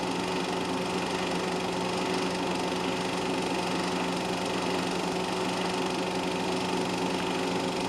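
A front-engined Formula Junior race car engine drones steadily for several seconds, a constant buzzing roar with no breaks or passing changes.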